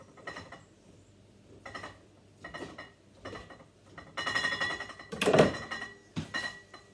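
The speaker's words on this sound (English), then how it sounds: "I've got 10 sun-dried tomatoes here. I'm just going to chop them very lightly." Knife tapping lightly on a board while chopping ten sun-dried tomatoes for a quiche, a series of soft, irregular close knocks with one louder clatter near the end.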